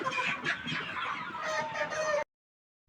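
Kaveri improved desi chicken birds cluck and squawk steadily for about two seconds, close and fairly loud, before the sound cuts to silence.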